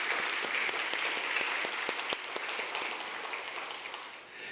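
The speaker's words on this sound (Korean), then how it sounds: "한번 일어나시면 한번 환영의 박수 드리겠습니다" A church congregation at a Korean Sunday worship service gives welcoming applause, a dense, steady round of many hands clapping throughout, fading slightly at the end.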